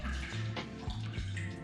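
Vodka is poured from a shot measure into a glass while making a Caesar cocktail, a faint, close liquid trickle and splash lasting under two seconds, with low hum in the background.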